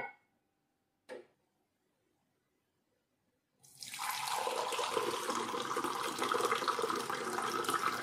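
Water runs steadily and fairly loudly from a tap during an early-morning face wash, starting abruptly after a quiet stretch broken by two brief clicks.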